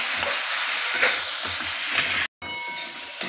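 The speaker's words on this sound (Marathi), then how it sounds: "आता मस्त परतून घ्यायचं" Chillies stir-fried in a kadhai hiss in a loud, continuous sizzle, with the scrape of a spatula repeating close by and a brief dropout partway through.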